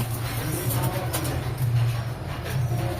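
A Kamagar pigeon cooing nearby with low, repeated throaty murmurs over steady background noise.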